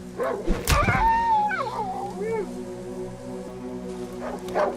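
A hostile dog in the survival horror video game Darkwood attacks with a sharp bark, then gives drawn-out whining yelps and growls. The sounds are loud and close over a low droning background, and more yips come near the end.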